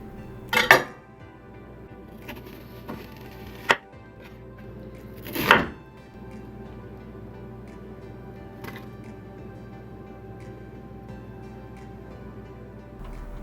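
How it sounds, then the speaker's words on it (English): Onion being cut with a kitchen knife for chicken adobo, a few sharp knife knocks on the board spread apart over a quiet room hum, with long near-silent stretches between them. "we're going to go ahead and cut up the onion, which is a vital part to our adobo"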